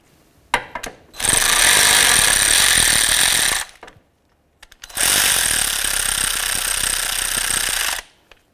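Cordless power tool running in two long bursts of about two and a half and three seconds each, driving the crankshaft position sensor mounting bolts on a 2010-2013 Ford Transit Connect, with short clicks before each run and no talk.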